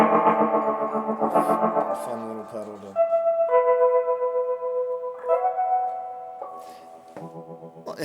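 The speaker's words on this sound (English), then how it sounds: "Oh, you had the reverb cranked on." Sustained guitar notes and chords ring out through an overdrive tremolo pedal with the reverb cranked, heavy reverb letting each tone linger and wash into the next in a spacious, echoing tail.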